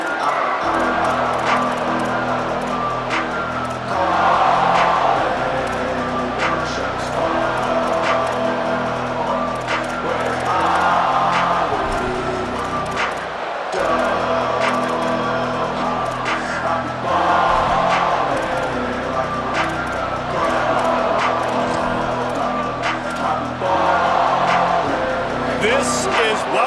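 Stadium crowd at a Texas Tech versus SMU college football game, a loud continuous roar swelling in waves, with a commentator talking over it throughout.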